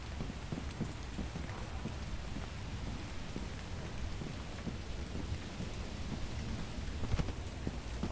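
Steady heavy rain falls in the video game Lethal Company, a dense continuous patter with low rumbling like distant thunder underneath and no talking.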